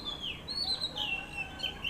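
A crested bird with a black-and-white neck, perched about eight or nine storeys up, gives thin, high, wavering chirps that sound faint and distant over steady outdoor background noise.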